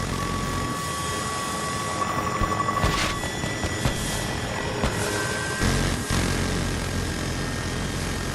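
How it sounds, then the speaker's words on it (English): Helicopter flying overhead in the Delta Force video game, a steady broad rotor and engine roar that stays fairly loud throughout, with a faint whistling tone early on. "There's a chopper."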